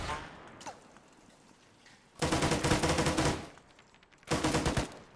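Two long bursts of rapid automatic fire from ARMA 3 pin down a player, dense and loud with a brief lull between them. A fainter earlier shot and some low ambient noise come first.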